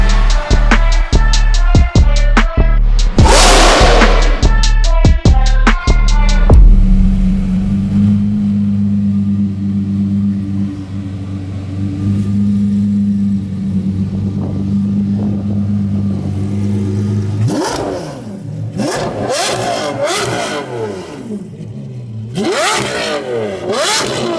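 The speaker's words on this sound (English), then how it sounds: "we're gonna drive this car and warm it up for Ron" A Lamborghini Revuelto fitted with a Gintani exhaust blips and revs sharply several times in quick succession, then settles into a deep, loud idle and drive-off before more aggressive rev bursts return near the end.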